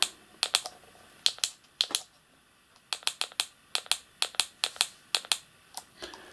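Keys on the keypad of an Ailunce HD1 handheld radio are pressed in a run of about twenty crisp plastic clicks, often in quick pairs and bursts, close and clear with no voice.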